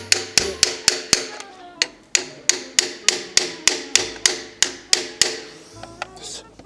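A hammer taps on an engine part during repair of an imported car: about fifteen sharp metallic strikes in a quick, even rhythm, close and loud, with one brief gap partway through.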